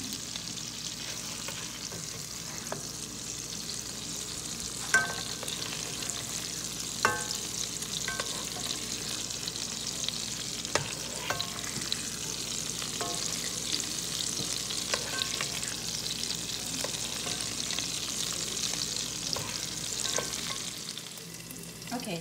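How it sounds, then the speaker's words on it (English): Sirloin steaks fry in a pan while being basted with butter, making a dense, steady sizzle close by, with sharp clinks of a spoon against the pan at intervals throughout. "I'm just basting the top with the butter and the seasoning."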